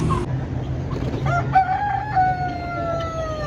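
An Aseel rooster at a rooster market in Okara crows loudly and close by, one long drawn-out call over a low background hum.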